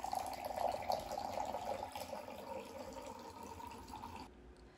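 Water pouring into a container while making homemade Gatorade from oranges, lemon, maple syrup and salt, a splashing, trickling flow that runs steadily then stops abruptly near the end.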